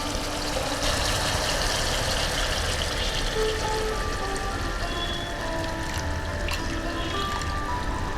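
Water pours into a pan of spiced fish curry, a steady close trickle and splash running throughout under a broad background hiss.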